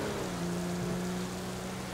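Rain falling in the driving game GTA 5 during a drive in a 1998 Honda Civic, a steady, even wash of noise with a faint low engine hum running beneath it for the whole stretch.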